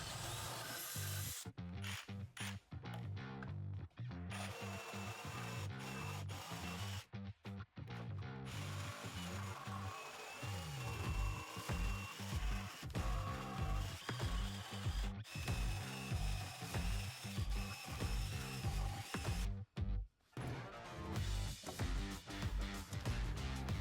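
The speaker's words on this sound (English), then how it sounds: "Use a large drill bit to create a hole for your jigsaw to cut out a lot easier." Intermittent bursts of a drill and jigsaw cutting wood for a chair, with buzzing cuts broken by short pauses, close and fairly loud.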